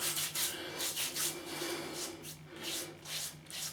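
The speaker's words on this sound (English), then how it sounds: "you just rub it in my hands." Hands rub Proraso white pre-shave cream together in a steady back-and-forth swishing rhythm, soft, close and repeated about a dozen times with no talking.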